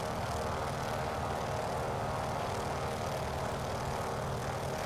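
A Noorduyn Norseman's big radial engine throttles up for takeoff in a flight simulator, producing a steady, loud, dense propeller drone that holds constant throughout with no talk.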